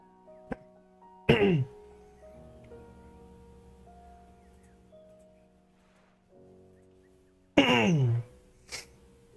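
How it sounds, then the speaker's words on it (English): Two sharp throat clears, close by and well apart, with a soft steady hum lingering underneath between them. "Oh, wish I wasn't clearing my throat."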